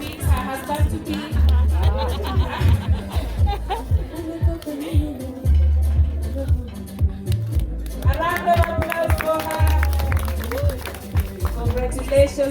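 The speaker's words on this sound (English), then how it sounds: "Let us clap for her as she meets her husband to be." Guests clapping at an engagement party in Karen, Nairobi, as the bride meets her husband-to-be, with crowd chatter and music over sustained applause throughout.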